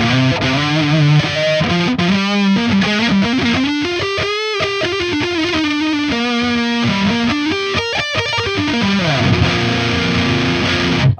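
Distorted metal electric guitar on the neck pickup of an inexpensive $199 guitar, loud sustained riffs and bending lead lines with heavy saturation, played alone without talk.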